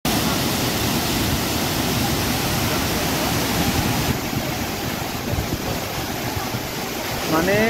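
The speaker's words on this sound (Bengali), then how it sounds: "জলের স্রোতটা দেখুন" Jonha Falls waterfall pours with a dense, steady roar of rushing water, loud and close, so strong that standing in front of it is hard, continuous throughout with no pauses.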